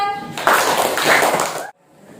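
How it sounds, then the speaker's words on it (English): A classroom applauds group 1, a burst of many hands clapping together for about a second before stopping abruptly, with a teacher's voice heard just before it. "give applause to group 1"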